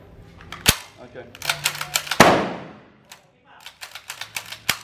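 Small brass 9mm shell casings from an HK MP5 drop and clatter during field stripping, giving several sharp metallic clinks and taps of varying loudness, one ringing longer, with soft handling noise between them.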